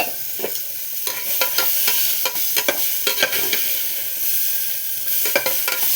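Chopped tomato fries and sizzles steadily in a hot pan while a utensil scrapes and stirs in repeated strokes.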